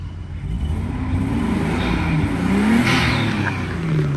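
A warmed-up Japanese car engine idles and hums steadily, a smooth low drone with a slight rise in pitch partway through, close and fairly loud with no voices over it.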